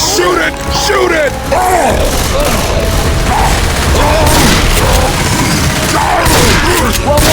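Loud gunfire and booming impacts fill a fight against a tank in the video game Left 4 Dead 2, dense and continuous with mechanical clatter, while voices shout over the din.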